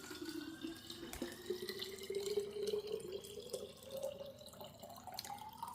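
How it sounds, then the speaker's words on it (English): Distilled water poured into a bottle, a close steady stream whose pitch rises gradually as the bottle fills, with no talking. "and then I'll top it up with distilled water."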